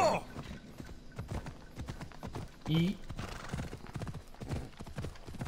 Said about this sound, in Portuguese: Chamar aqui o cavalo